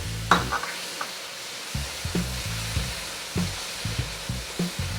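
Blended tomato sizzling in hot oil in a pan for a village-style fish curry, with a spoon repeatedly scraping and stirring in a steady rhythm of soft knocks over a continuous low fry.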